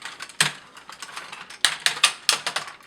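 The ratcheting joints of a MakeToys Utopia toy figure click sharply as a limb is rotated through its range. The quick, close clicks come in uneven clusters with louder snaps at each notch.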